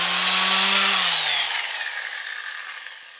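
A Parkside 3 in 1 sander, a low-cost model with heavy vibration, whines loudly and then spins down, its pitch dropping and its sound fading steadily over a few seconds.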